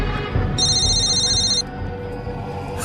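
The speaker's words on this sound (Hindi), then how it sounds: "शायद होटल वाले का फोन है।" A phone rings with a bright electronic tone in one sustained burst of about a second, over steady low background noise.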